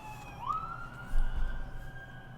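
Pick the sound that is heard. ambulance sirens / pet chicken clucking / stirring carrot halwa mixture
ambulance sirens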